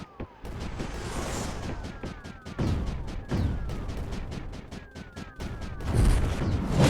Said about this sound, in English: I'm gonna start bombing this area just a little bit.